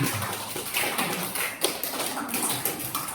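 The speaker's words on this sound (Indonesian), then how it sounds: "Tepuk tangan untuk semuanya yang sudah ke depan." Children in a classroom clap their hands in scattered, uneven bursts of taps and thumps, fairly close and moderately loud, with bits of movement mixed in.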